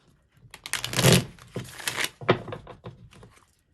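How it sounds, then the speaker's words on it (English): Tarot cards are shuffled by hand, a series of close papery riffles and slaps in uneven bursts, loudest in the first second and fading out toward the end. "Gonna shuffle one more time."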